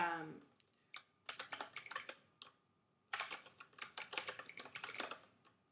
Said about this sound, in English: You'll type the subject